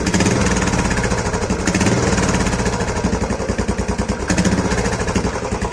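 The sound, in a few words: Royal Enfield Bullet BS6 revving with RX100 dB killer exhaust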